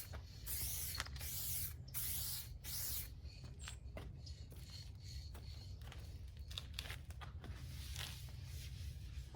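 An aerosol spray can hisses onto a truck bumper, a 2015 Silverado 2500HD front end, in several short close bursts over a steady low background hum, with no talking.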